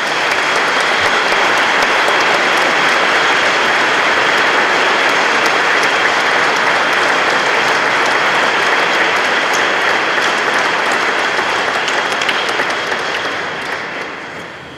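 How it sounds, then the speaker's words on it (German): Warm, sustained applause from a large crowd at a Senate reception in Hamburg City Hall, a dense, loud wash of clapping that holds steady and tapers slightly at the end. "vielleicht nochmal ein ganz herzlicher Applaus"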